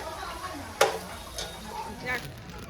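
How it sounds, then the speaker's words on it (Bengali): Vegetables frying in a pan make a steady soft sizzle, with a sharp clink of a utensil near the start and faint murmurs of voices in the background. "সবজিগুলো সব ভাজছি"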